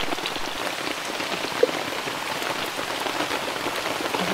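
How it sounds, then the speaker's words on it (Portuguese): Heavy rain pours steadily in the Amazon during a riverside fishing trip, a dense, continuous wash of drops hitting surfaces close by, even in loudness throughout with one brief sharp tap midway. "é muita chuva."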